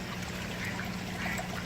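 Water trickling and splashing down a small waterfall in a modular aquaponics system, fed by gravity from the grow beds, a steady, quiet, continuous babble with no voices.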